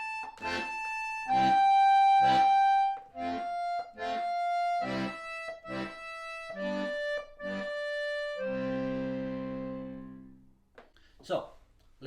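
Accordion plays bass notes and chords together in a steady quarter-note pulse, loud and close, ending on a sustained chord before a short rustle.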